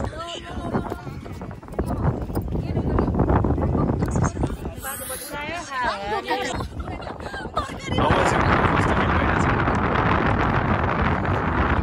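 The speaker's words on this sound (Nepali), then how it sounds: "हावा चाहिँ चल्ने रहेछ" Steady, rough wind buffeting a microphone on the sky walk at Pathivara Temple, Nepal, growing stronger toward the end, with voices talking underneath through the first part.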